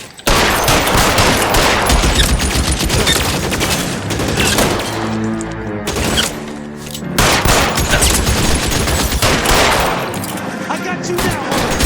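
Dense, continuous gunfire in a shootout from the video game L.A. Noire, loud and sustained with a short lull midway before the volley resumes, with voices shouting over it.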